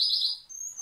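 A songbird chirps at a bird breeder's, giving a short, bright, close trill that dips and then rises into a thin sustained whistle, alone and without talk.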